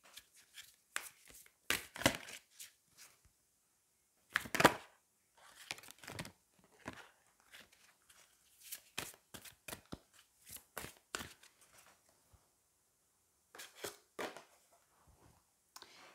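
Angel oracle cards shuffled by hand in quiet irregular bursts of soft riffling and slapping, near and clear with pauses between, no talking over them.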